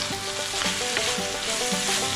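White and red onion frying in a pan for Kampukan na Kambing, a steady close sizzle with light stirring and utensil scrapes throughout.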